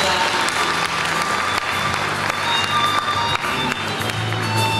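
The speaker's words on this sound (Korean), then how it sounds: "다시 한번 큰 박수 부탁드립니다" Loud, close applause from members gathered at a Rotary Club president's inauguration ceremony, continuous and dense throughout, with some low background hum and chatter underneath.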